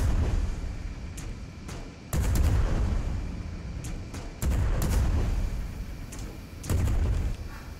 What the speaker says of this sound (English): Are you still firing their cannon?